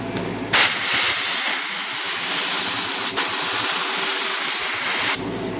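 Loud, steady hiss of compressed air blasting oil and cleaning chemical off Royal X typewriter keyboard parts, running close and continuous for about five seconds with one brief dip in the middle.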